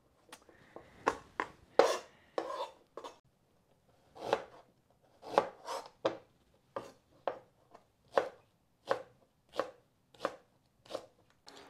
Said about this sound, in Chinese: 这切点配料嘛， 葱姜蒜呗